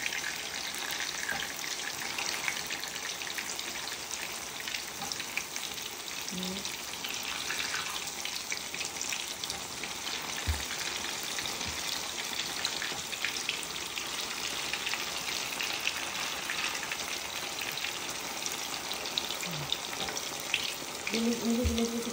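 Tofu and pork fry in a pan with a steady, fairly quiet sizzle and occasional faint clinks of utensils, with no talking.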